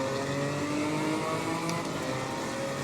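A BMW M4 GT4 race car in the Assetto Corsa Competizione racing game at Suzuka, engine droning steadily and loudly as it pulls away from a race start, with no talk.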